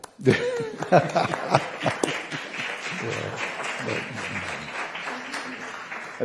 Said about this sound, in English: Another applaud.